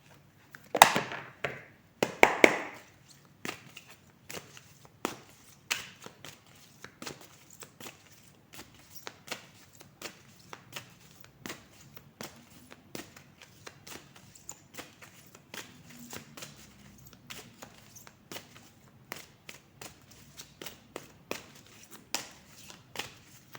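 Oracle cards handled and shuffled on a table, a burst of quick riffling near the start followed by a long run of sharp, scattered card taps and flicks, close and fairly quiet, with no talking.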